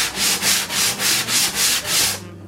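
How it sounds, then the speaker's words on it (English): A sanding block rubs back and forth in about seven even strokes, a steady raspy scrubbing close up, with no talking. "and as I take a sanding block"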